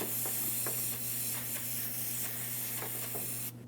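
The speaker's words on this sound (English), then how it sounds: "I'll use some parts cleaner and a rag." Parts cleaner sprays onto a 2003-2008 Toyota Matrix 1.8L engine area, a faint steady hiss with a few short bursts over a low hum, ending abruptly.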